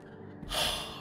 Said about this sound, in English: Lots of breathing going on that I don't care for.